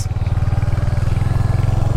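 A red Royal Enfield Hunter motorcycle being ridden, its single-cylinder engine thumping in a loud, rapid, even rhythm at a steady pace, close up throughout.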